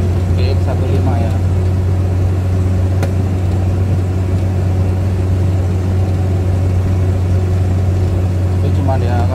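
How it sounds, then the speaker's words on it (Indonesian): Suzuki Carry engine droning steadily inside the cabin while driving, a loud constant low hum running the whole time with road rumble beneath it. "kalau kita mobil carry ya seperti ini, bising guys, lemahnya itu di bising itu loh ya"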